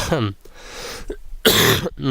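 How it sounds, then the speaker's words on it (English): A person coughs and clears their throat a couple of times between bits of talk, close and fairly loud. "sorry, I'm still trying to get over it, my cough."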